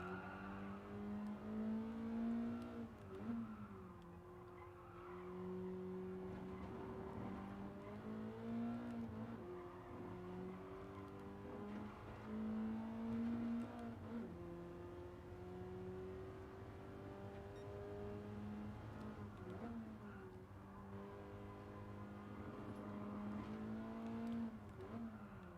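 A racing car engine in a racing video game screams at full throttle and climbs steadily through the revs. It drops briefly with each gear change, then keeps pulling, loud and continuous, with no talk over it.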